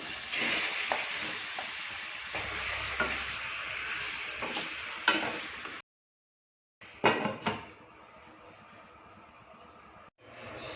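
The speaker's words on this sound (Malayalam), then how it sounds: "നമ്മൾ നേരത്തെ മാരിനേറ്റ് ചെയ്ത് വെച്ച ചിക്കൻ ഇതിലേക്കിട്ട് അതും ഒന്ന് വഴറ്റി" Marinated chicken for a chicken roast sautés in a pan, giving a steady close sizzle with stirring scrapes; it cuts out briefly, then resumes with a few louder clattering stirs.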